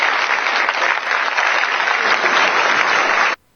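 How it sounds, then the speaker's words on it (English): Sustained applause fills the room at an executive order signing, steady and loud for several seconds before cutting off abruptly. "And he's clapping for them."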